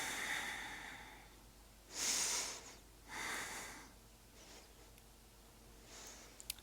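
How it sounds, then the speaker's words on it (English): Slow, deliberate breathing during a yoga practice: two distinct airy breaths, each a soft rushing exhale lasting about a second, close and gentle over a quiet background, with a faint hiss at the start. "Five more breaths here."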